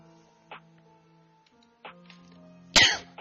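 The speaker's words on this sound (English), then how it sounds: "Sorry for the cough." A single sharp, loud cough bursts out near the end, preceded by faint throat noises and small clicks from an idle research game against quiet tonal background music.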